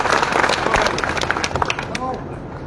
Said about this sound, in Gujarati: તાળીઓના ગગડાટ સાથે